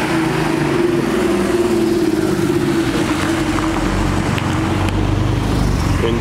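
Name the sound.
turbo sports car driving past on the street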